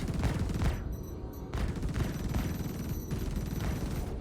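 Spaceship guns in Star Citizen fire in sustained rapid bursts with a dense rhythmic chatter, separated by short pauses, steady and close throughout.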